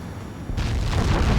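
A missile detonates in the Ace Combat 7 flight game, a sudden loud boom that breaks in about a third of the way through and rolls on as a heavy, sustained rumble.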